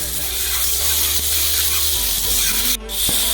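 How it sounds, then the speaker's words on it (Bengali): Potato and kohlrabi pieces sautéing with ground spices and dried chilli in a pan, a steady close sizzle with scraping and stirring rubs throughout, no talk. "এই সব মশলাগুলো দিয়ে আমি একসঙ্গে এটাকে কষিয়ে দিই।"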